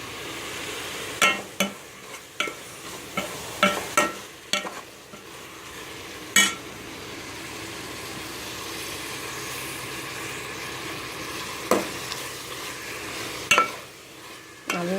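Mutton biryani ingredients sauté in a pan over a medium flame, a low steady sizzle broken by sharp, irregular spoon scrapes and clanks against the pan, heard up close with no talking.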